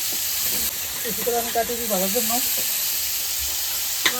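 Large prawns fry in hot oil with a steady, close sizzling hiss throughout, while a faint voice murmurs briefly in the middle.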